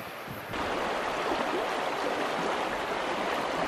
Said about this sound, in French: La rivière de Macarola.